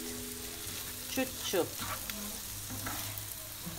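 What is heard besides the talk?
potatoes frying in a pan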